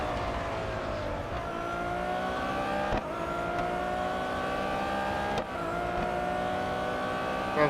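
Race cars roar through a lap in the mobile racing game Real Racing 3, a steady loud engine drone with rising and shifting gear tones, brief gear-change dips and nearby cars mixing in, no talk.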